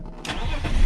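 A BMW slicktop 5-speed wagon fires up with a quick crank that catches into a rising engine roar, loud and close, heard alone with no voices.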